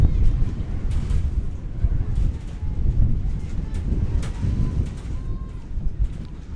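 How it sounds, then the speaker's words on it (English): Strong wind gusts of up to 35 mph buffet the microphone at an outdoor college softball doubleheader, a loud continuous low rumble with surging bursts that fills the whole stretch. "we just had one of those 35-mile-an-hour gusts"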